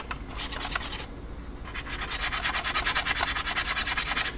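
Rubbing strokes on a 1/48 Tamiya F-14A plastic model kit while weathering panel lines, a dry scratchy friction in short repeated bursts, close and steady with a brief pause before a faster run.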